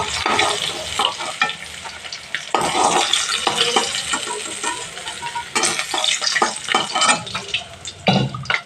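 Small rohu fish crackles and sizzles in oil while utensils stir and scrape, the frying noise surging and dipping in uneven bursts.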